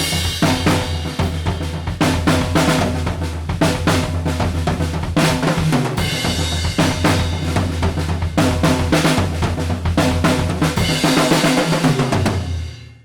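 Drum groove from a song played on a kit, steady dense hits with cymbals and kick running continuously and loud throughout, no talk.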